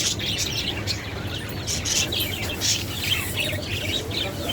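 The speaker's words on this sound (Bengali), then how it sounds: "কি পাখি এগুলি? ছেলে আছে, মেয়ে আছে, বাজিগর পাখি।" Budgerigars, male and female, chirp and twitter together in a bird collection, with Java sparrows and Bengalese finches kept nearby. The dense, overlapping tweets run steadily and close throughout with no speech.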